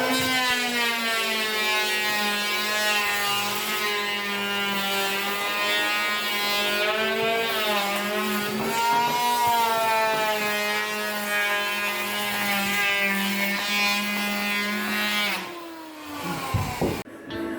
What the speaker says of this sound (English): drilling a hole in the tile for the cold water pipe